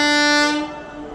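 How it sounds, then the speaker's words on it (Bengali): A train at Danshi railway station sounds a loud, steady horn blast up close, holding for about half a second and then fading slightly. "আর এইদিকে ট্রেন দাঁড়িয়ে রয়েছে, ট্রেন এবারে ছাড়বে।"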